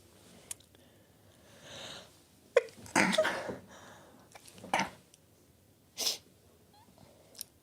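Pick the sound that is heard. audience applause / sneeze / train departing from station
sneeze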